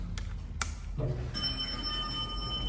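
A bright bell chime from a MEI hydraulic elevator in a parking garage rings out and sustains with a clear ringing tone, preceded by a couple of faint clicks in a quiet indoor space.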